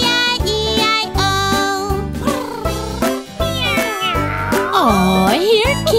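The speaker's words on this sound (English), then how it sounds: "With a meow, meow here and a meow, meow there" Cartoon cat meowing in a children's Old MacDonald farm song, several drawn-out, tuneful meows sung over a bouncy beat and backing instruments, loud and up front.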